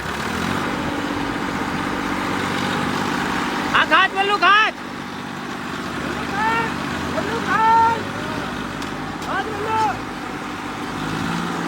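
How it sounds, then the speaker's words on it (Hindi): Two tractors coupled together to pull a load, their diesel engines droning steadily and close, while several people shout and talk over the rumble. "ओए 2 ट्रैक्टर जोड़ के खींच दिया।"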